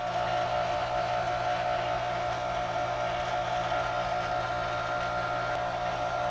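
A pasta machine runs while cutting whole wheat fettuccine, giving off a steady, loud motor hum with a constant mechanical drone and no voices throughout.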